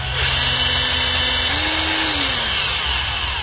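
A secondhand Japanese battery drill with speed control spins in normal drilling mode, a steady, loud, close motor whine whose pitch rises slightly and then eases back down.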